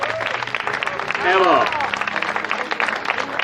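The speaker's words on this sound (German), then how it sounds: "Vielen Dank, herzlichen Applaus" A carnival-session audience gives sustained applause, a dense wash of clapping under a voice speaking over it, with a brief rising whoop partway through.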